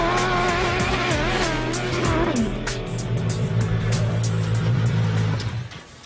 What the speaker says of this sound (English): It's designed to go on any surface, and it's powered by a Suzuki Hayabusa 1300cc engine